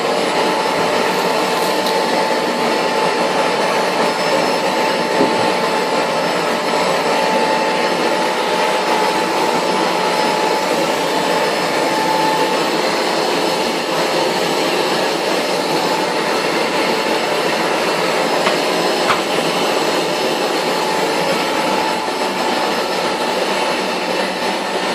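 A Shop-Vac wet/dry vacuum fitted with a white brush roars loudly and continuously while picking up debris, a steady close-up rush of air with no talk.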